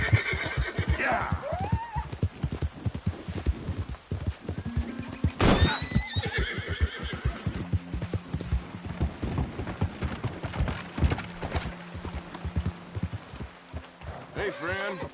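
A horse whinnies loudly, then its hooves clip-clop in a steady walking rhythm, close by, with a few mechanical clicks and brief moments of talk mixed in.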